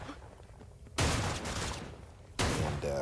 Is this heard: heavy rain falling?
no